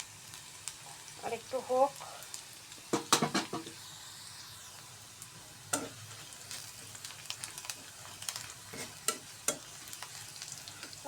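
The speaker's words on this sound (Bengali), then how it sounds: "রসুনটাকেও লাল লাল করে ভেজে নিতে হবে।" Garlic fries in a pan for a masoor dal tempering, a quiet, intermittent crackling sizzle with scattered pops and stirring, and a brief voice speaking.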